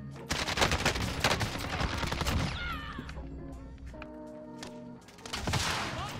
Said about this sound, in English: The amount of shots I had to take at him